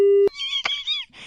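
Phone call cutting off: a steady tone snaps off with a click, then a short warbling electronic beep sequence and a final burst of noise, brief and loud.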